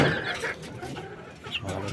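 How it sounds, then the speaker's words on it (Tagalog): Chickens cluck and chatter nearby, overlapping calls from several birds with rustling in the background. "marami dito dito mga alaga ng manok"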